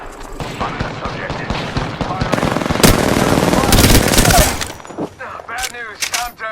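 Rapid automatic gunfire in the Apex Legends video game, loud bursts of shots building to a dense sustained volley in the middle, then trailing into scattered shots and game effects as a voice talks over it.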